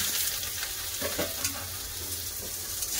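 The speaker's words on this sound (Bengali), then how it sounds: "পেঁয়াজ ভেজার তেল আমি একটু তুলে নিয়েছি, এতে সয়াবিন ভেজে নেব।" Soybean chunks fry in oil left from frying onions, giving a loud, constant close-up sizzle and crackle with occasional stirring scrapes.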